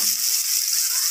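Onions and green chillies fry in oil until golden for a potato egg curry, giving a steady, bright, hissing sizzle, close and uninterrupted, without talk.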